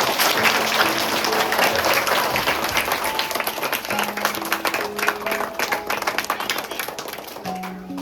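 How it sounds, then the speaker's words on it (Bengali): Schoolchildren at a primary school theatre workshop applaud after a play, a dense, steady burst of many small hands clapping close by, with a few scattered voices and brief tonal calls rising over it. "ভেরি গুড, হাততালি সবাই"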